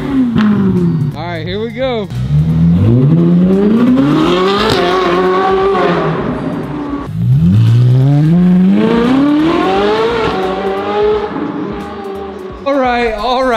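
A Ferrari 458's 4.5-liter naturally aspirated V8 exhaust roars close and loud through two long climbing revs, each rising in pitch before easing off, with a short spoken line just before the first rev.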